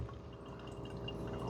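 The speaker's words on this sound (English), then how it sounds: "We're getting close, but it's got to run all that water through there." A Keurig K-Duo coffee maker runs water through its system during descaling, a continuous close gurgling and dripping flow with a low pump-like hum underneath and no voices.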